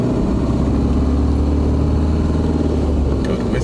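Learner car pulling away during a driving lesson, a close, steady engine drone inside the cabin with a low rumble and rising rev, fairly loud throughout with no talk.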